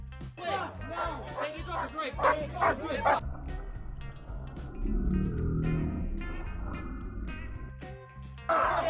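A police dog barks in a string of sharp, excited yips and woofs close by, while people talk over it and a low rumble runs underneath.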